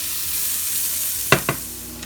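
Potatoes and onions frying in a pan give a steady, close hiss of sizzling oil, broken near the end by two sharp utensil taps against the pan.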